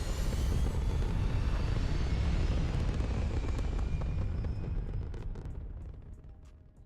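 A spaceship lifts off in the video game Starfield, a loud, broad rocket roar with deep rumble that holds steady for several seconds, then gradually fades and thins as the craft climbs away.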